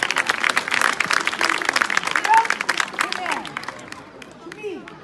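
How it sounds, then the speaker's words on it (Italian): Audience applause and clapping for Riccardo Zimmermann at a presentation in Italy, dense and steady for several seconds before thinning out toward the end, with crowd murmur mixed in. "facciamo un altro applauso a Riccardo Zimmermann"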